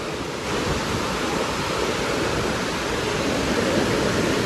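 Water released from Srisailam Dam gushes in a dense, continuous roar of broadband rushing noise, steady and powerful after a brief quieter start, with no voices heard.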